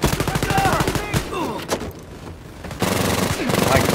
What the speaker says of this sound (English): God, the twin pistols are good.